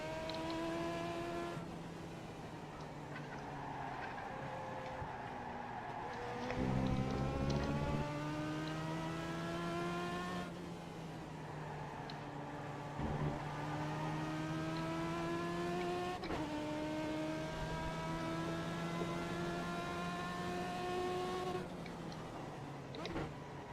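In the iRacing legends road racing cup at Laguna Seca, a race car engine drones at close range with harmonic tones that climb through each gear, drop at each shift and repeat over several acceleration runs.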